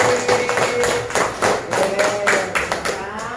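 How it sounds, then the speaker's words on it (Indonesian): A primary school fourth-grade math class claps for a group, a loud burst of hand claps under sustained applause for about three seconds, with no speech over it. "Beri tepuk tangan untuk kelompok persegi."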